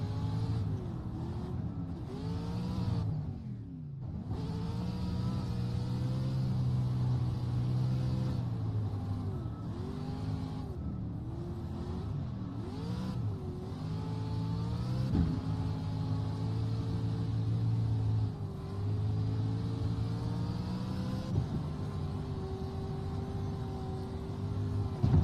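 Race car engines roar in a dirt racing video game. The engine note stays loud and close the whole time and keeps rising and falling as the car shifts gears, with no one speaking.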